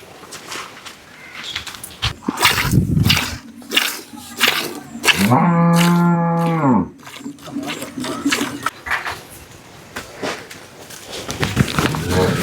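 Jersey cross cow on a dairy farm lowing once in a long, loud drawn-out moo mid-clip, with people talking before and after and general farmyard noise around it.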